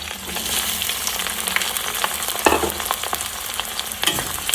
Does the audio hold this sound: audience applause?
no